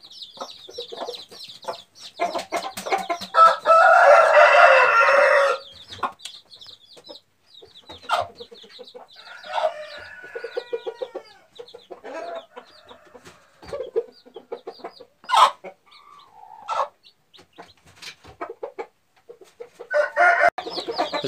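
A broody hen and her chicks cluck and chatter in a coop, with a louder burst of squawking early on and scattered short calls and peeps afterward, close by and without talk.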